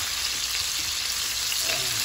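Steady, close sizzle of chicken frying in hot oil, a continuous crackling hiss with no talking.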